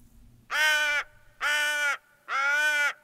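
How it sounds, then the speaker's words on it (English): Crow caller in theHunter Call of the Wild, three loud, harsh, drawn-out caws evenly spaced about a second apart, close and clear against near silence. "Let's double check this with the crow caller."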